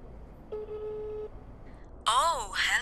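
A telephone tone sounds as a steady electronic beep lasting under a second. After a short pause a voice comes in and talks over the end.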